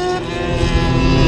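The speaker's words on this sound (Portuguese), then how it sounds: "Acelerando o XJ brabo." A Yamaha XJ6 motorcycle engine with a 4-into-1 exhaust revs hard during an informal street race against a CB 500, giving a brief, loud, strained whine close by.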